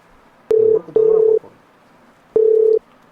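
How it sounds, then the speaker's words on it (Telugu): A phone dialing a call on loudspeaker: three loud, clean keypad beeps, two close together and then one after a pause, over a quiet room. "ఫోన్ చేయి. Loud speaker Anji."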